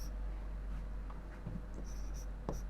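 Quiet scratching of a pen or marker writing on paper or a board during a class 10 maths lesson, with faint, irregular strokes over a steady low hum and no talking.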